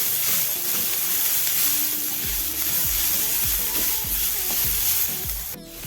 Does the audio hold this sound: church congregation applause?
no